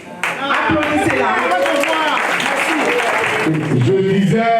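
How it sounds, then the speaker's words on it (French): An audience at an investiture ceremony for a party section secretary-general applauds warmly, with lively clapping mixed with voices and cheering throughout, loud and close. "Christine, applaudissez-la."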